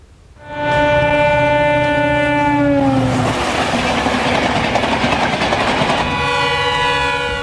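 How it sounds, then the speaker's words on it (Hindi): An express train running at about 100 km/h sounds a long horn as it nears, then roars past very close and loud with rushing clatter, the horn returning briefly at the end. "100 किलोमीटर प्रति घंटे की रफ्तार से दौड़ रही एक्सप्रेस ट्रेन और करीब पहुंचती जा रही है।"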